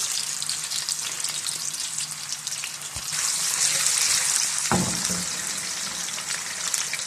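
French fries bubble and sizzle in hot oil for bun kabab, a dense, continuous crackling hiss that swells midway, with a brief clatter of a utensil.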